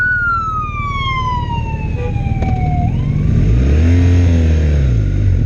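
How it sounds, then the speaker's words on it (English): An ambulance siren wails and slides downward in pitch as it passes close by, then fades under the louder rumble of a nearby engine revving. "Let the ambulance go, people."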